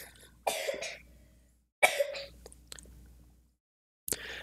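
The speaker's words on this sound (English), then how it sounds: "My son has got a bit of a cough this evening." A child coughs in three separate bouts, the middle one a quick run of several hacking coughs, with quiet gaps between; nearby and moderately loud.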